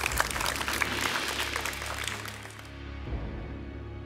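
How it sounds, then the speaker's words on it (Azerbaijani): A studio audience claps for the contestants on a televised quiz show, in a dense burst of applause that fades out after a few seconds, leaving a low background hum. "Alqışları eşidirlər."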